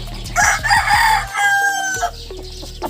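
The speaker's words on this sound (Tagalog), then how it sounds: "Ito na yung mga sisiw natin." Chickens cluck and crow close by, with chicks peeping in high, bright calls mixed into the flock's steady noise; a voice speaks briefly at the start.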